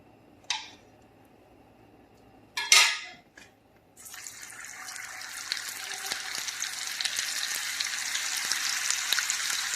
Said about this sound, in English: Melt this butter in here.